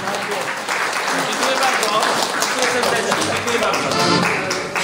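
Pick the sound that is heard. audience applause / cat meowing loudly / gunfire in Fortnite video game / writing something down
audience applause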